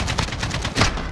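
A sniper rifle shot in a first-person shooter game, a sharp loud report standing out near the end of a dense run of rapid in-game gunfire.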